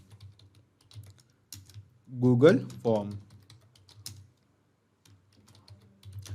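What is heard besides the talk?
typing on a computer keyboard to name a webhook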